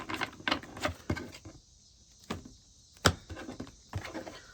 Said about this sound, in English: So let's shuffle once more and then we'll get the remainder.